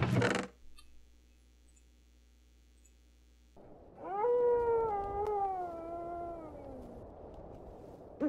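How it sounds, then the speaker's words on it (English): Wolves howl in Minecraft: a long, wavering, rising-then-falling howl with clear harmonics, swelling and fading in the middle of the stretch, after a short burst of noise and a quiet pause. "I hear the howling of wolves"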